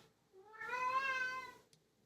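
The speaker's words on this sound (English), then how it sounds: "My cat is losing his mind." A single drawn-out cat meow, clear and fairly close, rising and falling over about a second, with a faint click just after and near silence around it.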